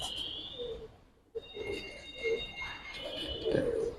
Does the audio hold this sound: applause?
no